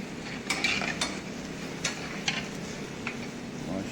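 Spinach and potato curry with spices stirred in a pan, with scattered scraping and clinking of a spoon against the pan over a soft, steady sizzle.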